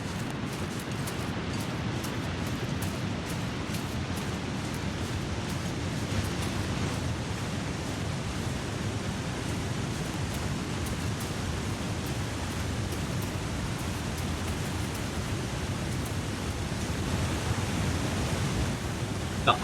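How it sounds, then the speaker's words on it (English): Waterfall in the snowy wilderness of the survival game The Long Dark, a steady, dense roar of rushing water that holds constant throughout, broad and fairly loud with no voices. "Oh right, that's a waterfall"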